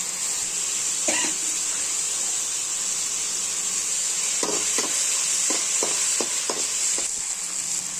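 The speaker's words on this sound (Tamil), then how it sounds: "தக்காளியை நல்லா பச்சை வாசம் போகிற வரைக்கும் வதக்கிக்கங்க." Tomatoes and onions with red chilli sauté in a pan for egg noodles, a continuous loud sizzle with several short scraping stirs clustered near the end; no speech.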